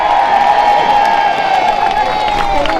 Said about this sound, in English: can you have a big cheer please for Heather Anderson?